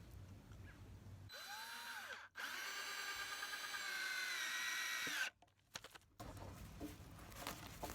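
A power drill whirs up to speed and runs in a sustained whine while pre-drilling wood for a raised garden bed, stops briefly, then bores again before cutting off, followed by light clicks and handling noise.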